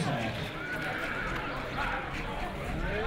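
A horse at a bloodstock sale neighs amid a busy, noisy crowd, with voices and clip-clopping hooves blending into a continuous din.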